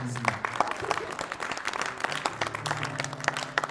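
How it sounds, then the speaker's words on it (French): A church congregation cheers and applauds for Jesus during worship, a dense wash of clapping and shouting voices that continues steadily throughout with no pause. "Est-ce qu'on peut acclamer Jésus?"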